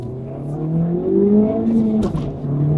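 A Honda Civic Type R in track-ready mode accelerates hard, its engine note rising steadily and loud and close, with a brief jolt near the end as the wheels hop under full power.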